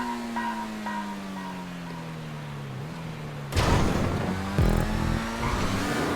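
Annis S80RR sports car engine in GTA 5 holds a steady drone that dips, then surges loudly as the throttle opens hard, revving on through the rest with a brief gear-change stutter.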